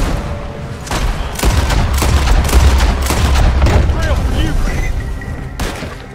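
Gunfire in Red Dead Redemption 2, several sharp shots and booming reports in quick succession over a rumbling game soundscape, loud and close, with a voice talking in between.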